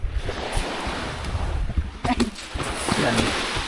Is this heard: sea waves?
yes